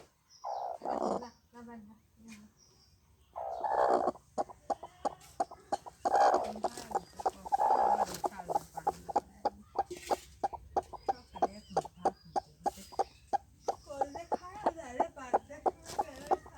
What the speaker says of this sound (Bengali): একই জায়গায় দুইটা মুরগি কুচি পড়েছে ডিম নিয়ে একই ডিম নিয়ে